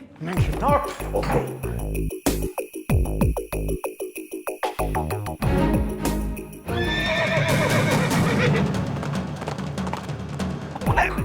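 Two horses in a Hindi action film scene whinny and neigh repeatedly, then break into galloping hooves that build into a continuous rush of sound, with voices heard along the way.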